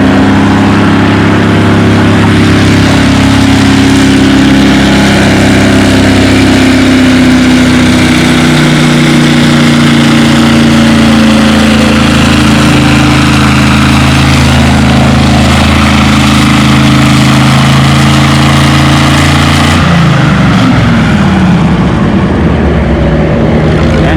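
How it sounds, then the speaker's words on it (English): A loud gas tractor engine roars continuously under heavy load at a tractor pull, droning steadily for about twenty seconds before the pitch drops as it eases off near the end. "Gas engine."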